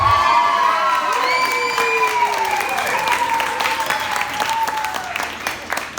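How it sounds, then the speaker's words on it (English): Wedding guests break into loud applause and cheering for the bartenders, with whoops and shouts rising over steady clapping from a large crowd that slowly tapers off. "Can we start by giving a round of applause to the most important people here"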